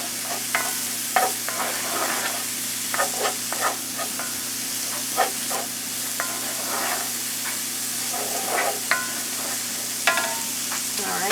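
Garlic sizzles steadily in a hot pan for creamed spinach, a continuous close hiss broken by repeated scraping stirs of a utensil against the pan.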